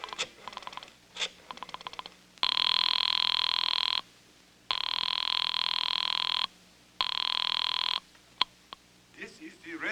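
A telephone rings through the earpiece after a number is dialed, a radio drama sound effect: three long, steady electronic ring tones with even gaps between them, following faint dialing clicks.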